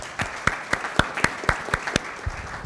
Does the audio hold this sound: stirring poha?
no